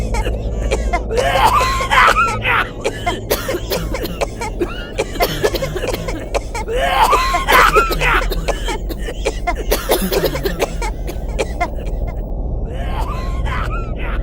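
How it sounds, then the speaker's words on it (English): A woman by a window seat on a plane coughs repeatedly in harsh bursts, several fits spread across the stretch, over a steady hum and background murmur. "she noticed the woman by the window seat, coughing"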